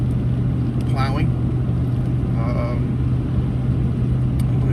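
Steady low engine drone from a vehicle on a short drive from home to a workshop, a constant close rumble throughout with faint brief voice-like sounds in the background.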